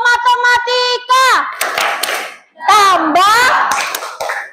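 Children in a classroom doing a math clapping chant, bright young voices singing loudly in unison with quick hand claps punctuating the phrases at close range.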